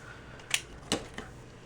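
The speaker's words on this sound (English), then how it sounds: "Now I think I'm going to round the corners of my card before I get any further." A corner rounder punch set to 1/2 inch trims the corners of a handmade card, giving two or three sharp, faint clicks in a quiet room.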